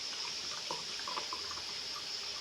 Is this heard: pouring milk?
yes